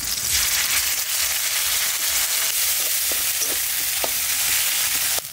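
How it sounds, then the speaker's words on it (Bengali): Spices with cumin and onion fry in a pan, a loud, even sizzle running throughout with a few faint clicks near the end. "মশলাটা ভাজা হয়ে গেছে"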